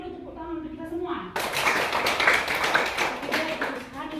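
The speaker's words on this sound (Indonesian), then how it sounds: "Kita beri dulu tepuk tangan untuk kita semua." An elementary-school class in Indonesia bursts into quick, close hand claps right after a teacher's short spoken lead-in, the children's clapping dense and lively to the end.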